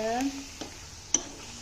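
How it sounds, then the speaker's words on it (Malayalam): Tuna pieces fry quietly in a large pan, giving a soft, steady sizzle with a couple of faint stirring knocks near the start and middle. "മീൻ പൊരിഞ്ഞ് വന്നിട്ടുണ്ട്"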